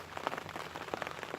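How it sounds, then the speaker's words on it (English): Rain patters on a surface nearby, with irregular drops tapping over a soft hiss. "As you can possibly hear, it's raining."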